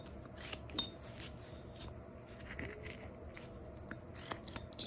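A knife making a stop cut in wood while whittling a small lighthouse, with faint, close scraping and rasping strokes and a few sharp clicks over a quiet background.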